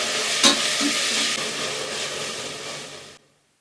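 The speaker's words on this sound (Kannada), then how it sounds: "1 ರಿಂದ 2 ನಿಮಿಷ ಚೆನ್ನಾಗಿ ಈರುಳ್ಳಿ ಮತ್ತೆ ಶುಂಠಿ ಬೆಳ್ಳುಳ್ಳಿ ಪೇಸ್ಟ್ ಅನ್ನ ಫ್ರೈ ಮಾಡ್ಕೊಳ್ಳೋಣ" Onion with ginger-garlic paste frying for kuska biryani: a close, even sizzle with a brief stir knock near the start, then it cuts to silence just before the end.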